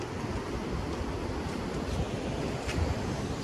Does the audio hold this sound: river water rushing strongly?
yes